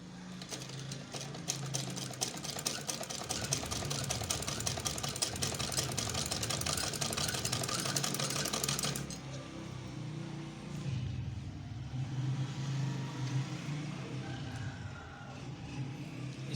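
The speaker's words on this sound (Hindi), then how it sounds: "इसी तरह बिल्कुल आराम आराम से आपने स्टिचिंग करनी है ताकि दोनों पैनल बराबर रहें।" Sewing machine stitching piping between sleeve panels of a frock, a steady rapid clattering run for about nine seconds that then stops, leaving faint handling and rustling noises.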